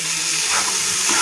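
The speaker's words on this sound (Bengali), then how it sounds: "ধনেপাতাটা দিয়ে আরও ভালো করে একটু নাড়িয়ে চাড়িয়ে নেবো।" Lote fish jhuro with coriander leaves being stirred in a frying pan, a steady close sizzle and hiss with soft stirring scrapes.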